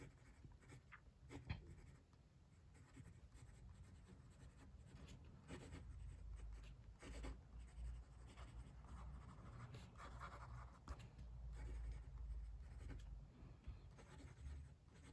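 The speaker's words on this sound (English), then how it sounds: "Let's do some writing." Close, quiet strokes from a wet-writing Fude-nib fountain pen on paper, a smooth continuous scratch with a few sharper ticks, heard alone without talk.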